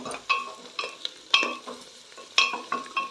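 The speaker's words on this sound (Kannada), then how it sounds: "ಉರಿನ ಮೀಡಿಯಮಲ್ಲಿ ಇಟ್ಕೊಂಡು ಫ್ರೈ ಮಾಡಿ" Onions and green peas frying in oil over medium heat with a green chilli added, stirred in a pan; soft sizzling with several clear spatula scrapes and clinks coming in irregular bursts, close and fairly quiet, no talking.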